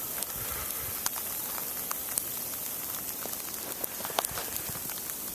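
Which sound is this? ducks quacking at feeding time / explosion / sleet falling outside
sleet falling outside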